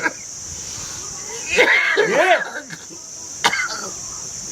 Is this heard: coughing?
yes